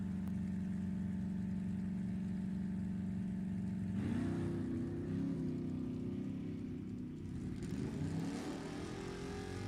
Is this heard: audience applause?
no